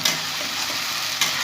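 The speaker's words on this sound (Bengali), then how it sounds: "তো আদাটাও একটু কষে নেব।" Ginger and two bay leaves are frying with browned onions for chicken kasha, giving a steady, dense sizzle that stays even for the whole short stretch, with a small bump near the start and again near the end.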